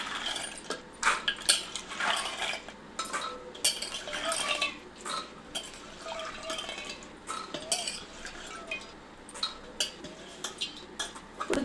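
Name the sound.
washed chickpeas being put into a pot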